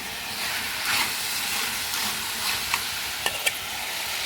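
Chopped tomatoes cook in a hot pan for a raw plantain gravy curry, giving a steady close sizzle and hiss with a few sharp utensil taps near the end.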